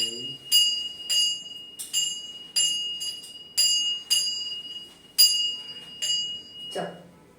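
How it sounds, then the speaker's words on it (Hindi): A hand bell rings in about a dozen bright, evenly spaced strokes during a home puja, each ring near and clear with a short decay, and a soft voice speaks briefly at the start and end. "हाँ घंटी बजा बेटा"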